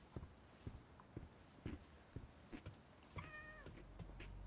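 A kitten meows once in the video game The Medium, a short rising cry following a run of steady footsteps, with soft ambient background.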